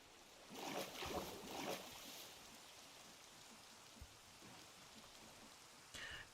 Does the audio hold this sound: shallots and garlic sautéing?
no